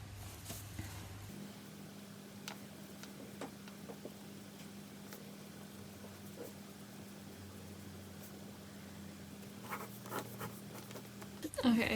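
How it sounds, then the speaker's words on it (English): A pen scratches across paper in faint, intermittent strokes up close, under a steady low hum of room noise, with no speech. "Anyway, so I'm gonna draw what's happened"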